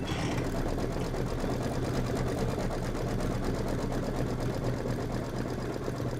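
An embroidery sewing machine stitches a wick fill, a fast steady mechanical whir with a rapid needle rhythm, running continuously at moderate volume with no talking.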